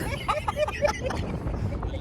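Strong wind roars and buffets the microphone in a steady low rumble, with people talking over it.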